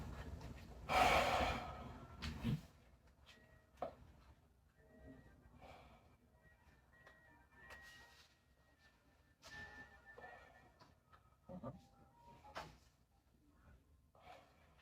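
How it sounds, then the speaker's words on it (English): Deep breaths in and out during a medical exam in an emergency room: a few slow, audible inhales and exhales, faint and close, with quiet rustling and handling noises between them. "take some deep breaths in and out"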